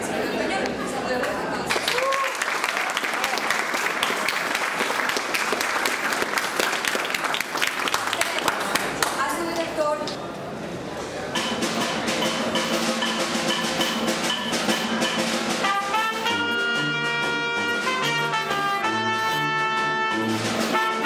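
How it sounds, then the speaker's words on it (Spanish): An audience at a graduation recital applauds and cheers to welcome a town music band, with sustained clapping and crowd chatter at first, then band instruments begin playing and take over in the second half. "para que le brindemos un fuerte aplauso y bienvenida"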